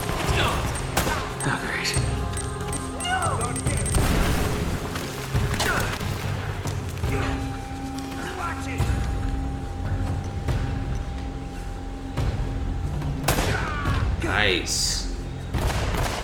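Gunfire in the Uncharted game from an automatic pistol, with several sharp bursts and thuds scattered through the stretch, mixed with game effects while a person talks and reacts.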